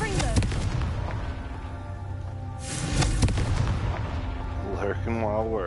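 Confringo fire spells burst in the Hogwarts Legacy video game: several sharp explosive blasts with crackling tails, a big boom midway, and a brief game voice near the end.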